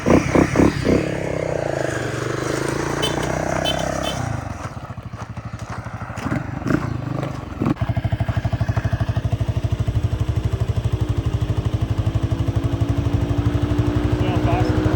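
A Honda CRF250L trike engine sputters as it rides past after sitting unused, its uneven putting chatter steady and close, following a stretch of louder revving and clatter, with talking heard over it.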